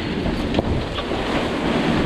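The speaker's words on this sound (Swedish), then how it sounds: "Vi var väl inte beredda på att vågorna skulle bli så höga." High waves break against a sailboat at sea off Sardinia, with loud, continuous surging water and heavy wind buffeting the microphone. A few sharper splashes stand out within the roar.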